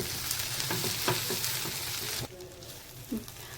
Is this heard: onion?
yes